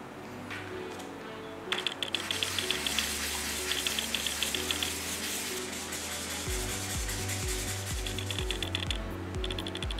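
A piece of amber is polished on a spinning machine, making a whirring, rubbing mechanical sound with rapid ticking and scraping bursts, and the motor's pitch shifting partway through.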